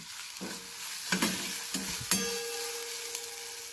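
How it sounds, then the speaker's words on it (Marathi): Ground coconut masala paste frying in hot oil for a dried cowpea curry, a steady close sizzle broken by several scraping stirs of a spatula in the pan. "तर या ठिकाणी आपण जे वाटण केलेलं सोल्याचं तर ते घालायचं आहे ते सुद्धा छान परतून घ्या"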